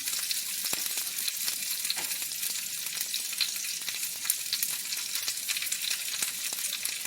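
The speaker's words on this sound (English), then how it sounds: "my saute pan, my small one, is ready. So we're going to go ahead and add in our broccolini." Broccolini frying in a small sauté pan gives a steady, bright sizzle with crackling pops throughout, close and even, with no talking.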